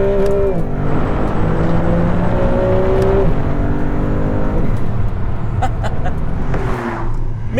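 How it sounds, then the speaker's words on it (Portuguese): An Alfa Romeo 33 Stradale's V6 engine drops through two quick downshifts, its pitch stepping up with each, then pulls hard under acceleration with a loud, continuous engine note and rising revs as the car drives. "Uma redução, outra redução e agora vamos acelerar."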